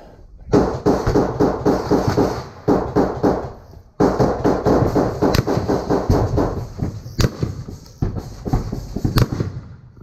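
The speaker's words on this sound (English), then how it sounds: "Who's shooting there?" Rapid, loud bursts of close gunfire ring out during a close-quarters combat fight against a Russian Spetsnaz team, with repeated volleys and single sharp shots over about ten seconds.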